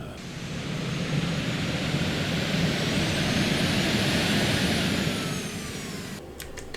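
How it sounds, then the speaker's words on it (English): Boeing 737-800 jet engines spooling into reverse thrust after landing, a loud sustained broadband roar with a rising whine that holds steady for several seconds, then eases off near the end. "There we've landed, and I'm now going to push the reverse thrust"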